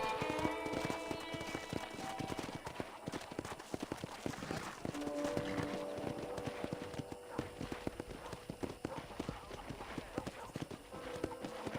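A ridden horse clip-clops steadily in Red Dead Redemption, a continuous rhythmic trot of hooves heard throughout alongside background music and occasional speech.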